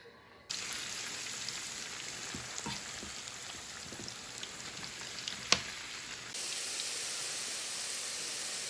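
Homemade French fries fry in hot Crisco in a big pan, a steady dense sizzle and crackle that runs unbroken throughout, close and fairly loud, with a few sharper pops.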